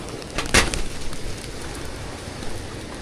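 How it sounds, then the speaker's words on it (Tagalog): Steady rain easing off toward a light drizzle outdoors, a soft continuous patter close by with a brief louder splash early on, no voices. "medyo humihina na po yung ulan, ambon na lang"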